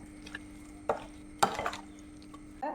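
Beef marinated with yogurt for a Kerala-style biryani is stirred in a bowl, making a few soft, wet squelching scrapes at an irregular pace, quiet and close.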